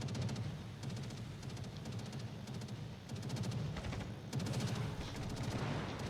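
Rocket strikes from carrier aircraft in World of Warships, a dense burst of rapid explosive cracks and rumbling blasts running continuously, loud and close, with a second heavier volley near the end.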